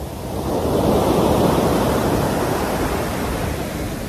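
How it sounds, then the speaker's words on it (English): Ocean waves washing up onto a beach as a steady, loud broadband rush that swells and holds without a break, close by and with no voices. "It's fun just to sit on the beach and listen to the waves come up."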